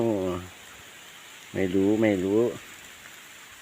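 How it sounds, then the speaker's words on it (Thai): Steady rain hisses down during a rice harvest, a continuous wash of noise beneath two short bursts of someone talking. "ฝนก็ตกเลย"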